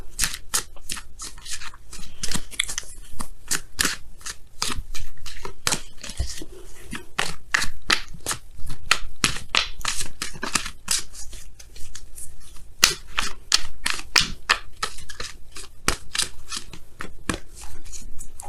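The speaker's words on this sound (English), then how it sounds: "let's go ahead and pull your Wisdom of the Oracle card" Oracle cards for a tarot reading are shuffled by hand close up, with repeated quick riffles and slaps of card stock in irregular bursts throughout, and no talking.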